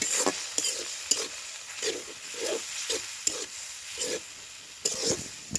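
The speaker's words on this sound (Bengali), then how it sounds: "ভালো করে এখন আমি মিক্স করে নেব।" Chili paste, ginger paste, chili powder, turmeric and salt stirred together in a pan for a fish and taro-leaf dish, giving repeated soft scraping strokes with a light sizzle and occasional sharp utensil clicks, close by with no talk.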